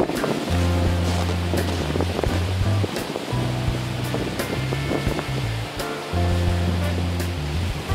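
Rushing water at Pinawa Dam during winter, a continuous broadband roar with heavy wind buffeting on the microphone throughout.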